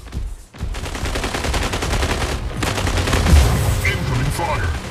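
Rapid gunfire in a mech combat video game, a dense continuous burst of shots with booming low impacts, loud and sustained throughout under game noise, no voices.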